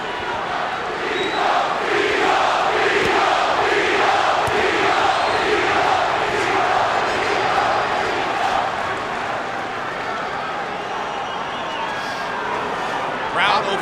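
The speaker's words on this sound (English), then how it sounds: "Crowd overwhelmingly in favor of Trinidad" A boxing arena crowd at the Bernard Hopkins vs. Felix Trinidad fight roars steadily in favor of Trinidad, a dense, loud wall of cheering and shouting that holds throughout with little letup.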